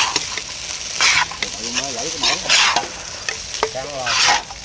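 A big batch of fried rice stirred in a large pan over high heat, loud close sizzling that swells in repeated bursts as the spatula scrapes and tosses, with a voice heard faintly in the background.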